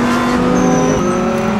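A Lamborghini Huracan GT3 race car with a GT3 air restrictor driven flat out on track, its loud engine holding a steady high-revving drone throughout, close and continuous.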